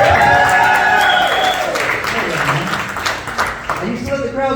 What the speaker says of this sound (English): Give it up for veterans one time.